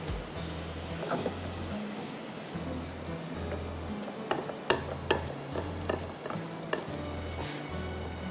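A spoon stirs melting sugar as it turns to caramel in a pan, with steady scraping and soft clinks against the metal over a low sizzle, accompanied by quiet background music.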